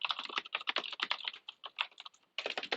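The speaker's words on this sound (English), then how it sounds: "You can probably tell I've got one of those mechanical buckling spring keyboards." Typing on a mechanical buckling spring keyboard, heard as a close, rapid run of sharp clacky keystrokes in uneven bursts with a brief pause before a final flurry.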